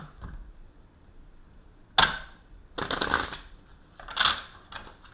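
Close, crisp bursts of tarot cards being shuffled, three distinct riffling passes separated by short quiet gaps.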